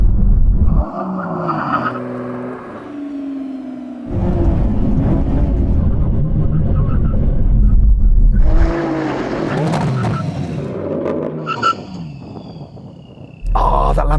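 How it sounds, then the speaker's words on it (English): A Lamborghini's engine roars at speed at a drag race, then cuts to hard emergency braking with a brief tire squeal and skid, followed by quieter idling and a rev near the end. "Here comes the line, full emergency stop."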